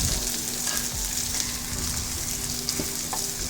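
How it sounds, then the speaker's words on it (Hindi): Two medium-large onions fry in cooking oil in a pot for chicken malai handi, making a steady, close, continuous sizzle with occasional stirring scrapes and no talking. "इसको हम फ्राई करेंगे कलर चेंज होने तक।"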